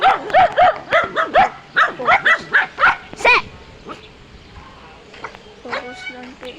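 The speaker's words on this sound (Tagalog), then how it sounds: "ang dami pong mga aso dito." A pack of dogs barks outdoors in a rapid run of close, loud yelps, then trails off into quieter noises with a few faint high cries near the end.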